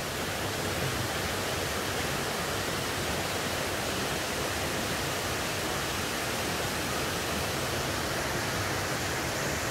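A jungle stream pours down from a waterfall, a constant broadband rush of flowing water, steady and unbroken with no voices.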